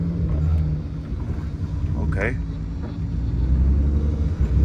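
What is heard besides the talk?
VW Mk1 with VR6 engine swap driving around lot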